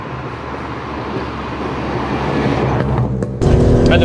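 A modified one-off Mk2 Volkswagen Golf GTI engine drones steadily while driving on a B road, with a constant road rumble that grows louder and revs up sharply near the end.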